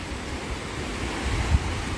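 A steady, dense roar of rushing water at Taraabu waterfall fills everything, constant and unbroken, with a faint low thump near the end.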